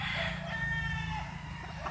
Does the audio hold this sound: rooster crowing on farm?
yes